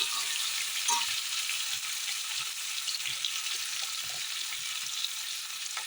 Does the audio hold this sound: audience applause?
no